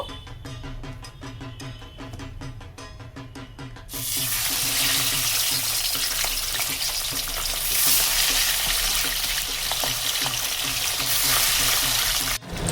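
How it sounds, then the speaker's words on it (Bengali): Hilsa fish frying in oil in a kadai: after a quieter opening with faint tonal background sound, a loud, dense, hissing sizzle erupts and holds steady for the rest of the clip. "এই তেলেতেই আমি মাছগুলো ফ্রাই করে নেব"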